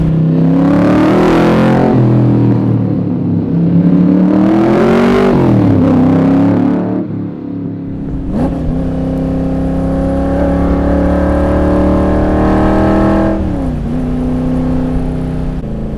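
A Superformance Cobra R engine revs hard in third gear, pitch climbing in long sweeping pulls, loud and close with no talking.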